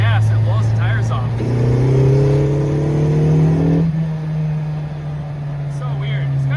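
A classic Mini Cooper engine, not running well, revs hard and accelerates, its pitch climbing and holding loud for a few seconds before easing off, with brief voices at the start and end.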